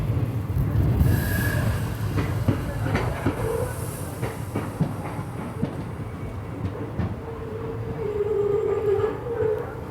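The Vasco da Gama–Tirupati Express arrives at Kulem station, a steady rumble of rolling wagons with clicking wheel joints and a brief hiss, fairly close; a faint voice speaks now and then.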